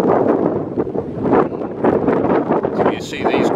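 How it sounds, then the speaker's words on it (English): Strong wind buffets the microphone on a hillside climb in the Welsh countryside, a loud, gusty rumble that swells and dips without pause. "It's very windy."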